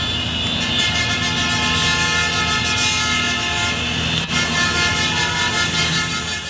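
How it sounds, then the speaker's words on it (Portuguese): A motorized procession of cars, motorcycles and trucks crawls through a town's central streets for a São Cristóvão festival, producing a loud, steady wash of engines with sustained horn blasts running throughout and one sharp bump midway. "No dia seguinte, a festa inicia com a procissão motorizada."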